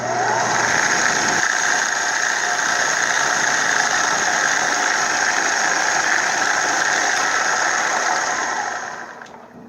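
A milling machine spindle runs a 3/8 carbide cutter at about 3,000 RPM, giving a loud, steady whirring hum with a constant high whine that holds for most of the clip before winding down at the end.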